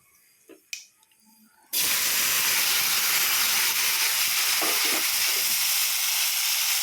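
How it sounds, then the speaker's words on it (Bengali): Pineapple hitting hot oil in a wok bursts into a sudden loud, hissing sizzle after a few quiet clinks, then holds as a steady close roar of frying with no talking. "কড়ার তেলটা গরম হয়ে গেছে, এখন আমি এর মধ্যে দিয়ে দেবো আনারসটা"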